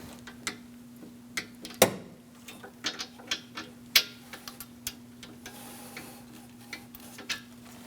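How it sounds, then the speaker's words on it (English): A torque wrench tightens the AC lines on a 2002–2006 Toyota Camry 2.4, its ratchet ticking in quick, irregular clicks close up, with a couple of sharper metallic snaps in a quiet garage and no talking. "Let's torque these lines to 47 inch-pounds."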